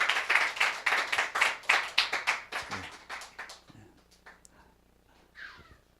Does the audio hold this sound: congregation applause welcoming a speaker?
yes